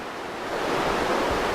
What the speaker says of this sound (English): So that's the cascading waterfall from the top down to where I was a little earlier